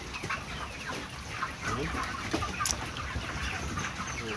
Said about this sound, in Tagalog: Update natin yung ating mga manok.